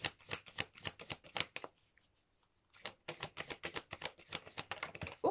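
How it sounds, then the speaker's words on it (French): Oracle cards being shuffled by hand, quick rapid riffling bursts close up, a short pause midway, then another run of brisk shuffling, no talk. "Je vais demander encore une carte."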